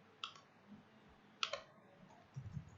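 Two crisp mouse clicks on an on-screen button, the first near the start and the second about a second later, close and isolated against a quiet room with faint low murmur at the end.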